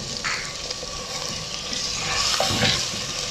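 Mutton added to fried onions with small cardamom and bay leaf, a dense, continuous close sizzle with a brief clatter of stirring, loud and steady, without talking.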